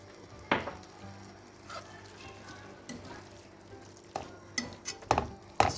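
Spinach filling for börek, seasoned with red pepper flakes, being stirred in a pan with a soft sizzle underneath and scattered utensil scrapes and knocks against the pan that grow sharper and more frequent toward the end.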